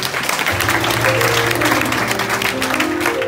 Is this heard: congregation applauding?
yes